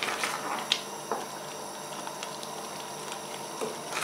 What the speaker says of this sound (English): Make sure you stir it as it's boiling, make sure the corn flour's gone all the way through